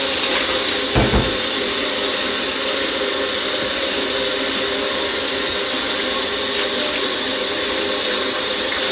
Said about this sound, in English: So let's just wash our mushrooms clean first.